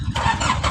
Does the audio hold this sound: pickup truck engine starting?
yes